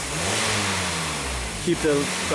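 A Hyundai engine that runs rich with a MAF sensor fault idles with a steady, low, close rumble. A voice briefly cuts in near the end.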